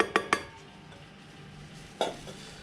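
A utensil briefly clinks and scrapes in a bowl while sifted almond powder and icing sugar are mixed for macarons, a few soft knocks near the start and one more later, with quiet between.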